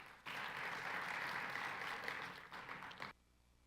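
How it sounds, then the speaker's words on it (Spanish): Audience applause greets a speaker at a talk on the Colombian food market, starting abruptly, holding as a steady, fairly faint wash of clapping, then cutting off sharply. "Lo recibimos con un fuerte aplauso,"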